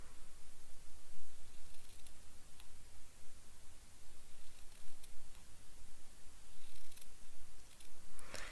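Scissors snip small strips of tape for a handmade card. Faint, sparse clicks and snips sound up close over a quiet background, with soft rustling between the cuts.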